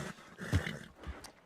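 A Shire horse in a video game gives a brief, close snort and low whinny, with a second quieter snuffle after it and no talk.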